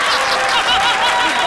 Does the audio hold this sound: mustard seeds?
no